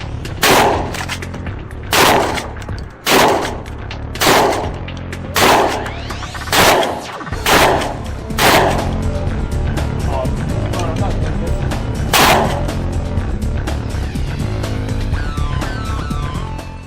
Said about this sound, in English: Shooting the UTAS.